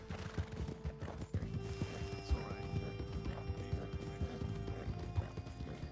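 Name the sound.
horse hooves from riding a horse in a video game (RedM)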